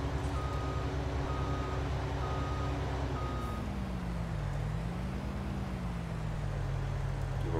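A Claas Lexion 600 series combine in Farming Simulator 19 reverses, giving a run of evenly spaced electronic backup beeps over a loud, steady engine drone whose pitch dips and rises partway through.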